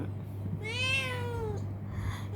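A cat in a cage gives one clear, drawn-out meow that rises then falls, close and fairly loud over a low steady hum.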